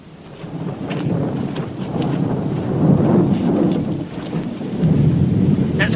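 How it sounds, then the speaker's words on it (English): A thunderstorm-like roar builds into a continuous low, rolling rumble mixed with a rain-like hiss and gusty wind noise, loud and steady throughout, without a single sharp crack. "Like a thunderstorm, isn't it?"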